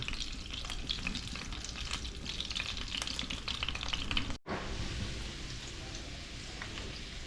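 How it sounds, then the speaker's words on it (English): Onions sizzle and crackle steadily in a hot pan, a dense hiss with brief pops, pausing for a moment before the frying carries on. "with the onions into the frying pan there"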